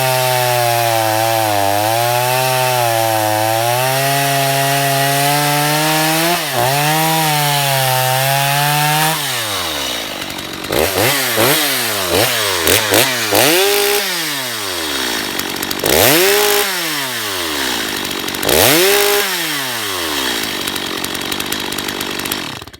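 A Stihl MS250 chainsaw revving hard near its top speed, roughly 13,000 RPM after a bogging fix, holding a steady loud scream before settling into repeated blips that rise and fall back to idle.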